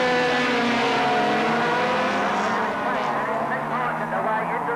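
Rallycross cars, led by a Ford Escort, racing away at Lydden Hill in a 1985 winter series event, engines roaring loudly at full throttle and fading slightly, under continuous commentator talk.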